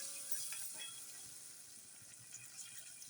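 Curry leaves and coriander crackling in hot tempering oil for kadhi, a faint steady hiss with light sputters, quiet and close, no talk.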